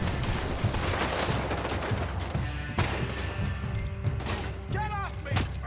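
Gunfire from the video game Red Dead Redemption 2 comes in rapid bursts, mostly in the first half, mixed with game sounds, shouting voices and a whistling tone.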